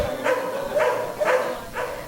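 Stray dogs caught by barangay workers bark four times in a steady, evenly spaced rhythm, loud and close with no other voices.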